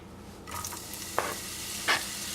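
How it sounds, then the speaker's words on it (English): Vegetables sautéing in olive oil in a saucepan, a quiet continuous sizzle broken by a few sharp stirring scrapes against the pan. "you're going to put about 2 tablespoons of olive oil in a sauce pan, and then we're going to saute the vegetables"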